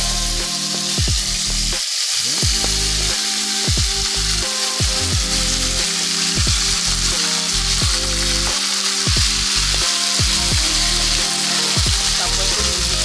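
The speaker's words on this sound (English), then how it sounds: "So now I have some oil in the pot and the oil is already hot, so I'm going to be adding the chicken." Chicken fries in hot oil in a pot with a loud, constant crackling sizzle, broken by regular rhythmic knocks and bumps throughout.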